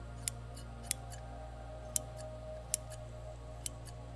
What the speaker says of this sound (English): So Ernie found a pair of scissors and started cutting his own hair.